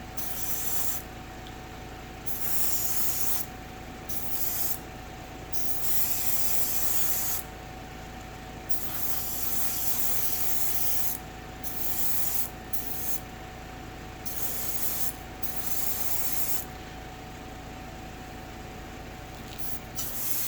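An airbrush sprays MIG One Shot primer onto a Tamiya M8 Greyhound model armored car in short hissing bursts, over a constant low hum from a compressor.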